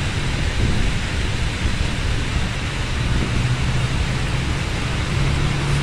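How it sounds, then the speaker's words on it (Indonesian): Constant rainfall hisses steadily throughout at Bakauheni port, with a low background hum and no talking. "Di Bakauheni hujan ya teman-teman, dari tadi pagi hujan nih."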